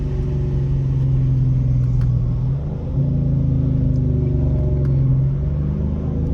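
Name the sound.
Dodge Charger R/T engine and exhaust with muffler delete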